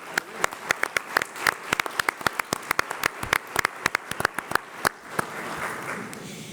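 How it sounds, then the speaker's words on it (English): Sparse, distinct claps from a small audience at a Denver school board candidate forum, individual hands ringing out irregularly before thinning away near the end. "Audience, how about a healthy round of applause?"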